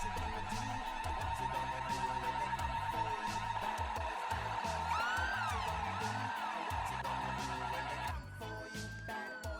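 A jewelry store alarm in a police video game, heard as a loud, piercing steady tone with wailing, rising and falling sweeps layered over busy game sounds, cutting off briefly near the end.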